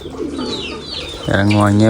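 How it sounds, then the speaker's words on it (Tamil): Pigeons coo loudly and close by as they land from a power pole at a pigeon-rearing farm, with deep rolling calls building toward the end. "புறாவெல்லாம் இறங்கிக்கிட்டு இருக்கு."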